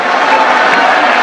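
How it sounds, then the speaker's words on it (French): An audience at a political gathering in the DRC applauds for the Grand Kasai delegates: a dense, steady wash of clapping and crowd noise, loud and close, with no break across the short stretch. "est-ce qu'on peut bien applaudir pour le grand Kassai?"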